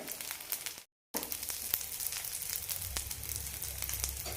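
Bun dosa cooks covered in an oiled pan, giving a soft, steady sizzle with faint crackles. A brief total dropout interrupts it early, and then the frying continues alone.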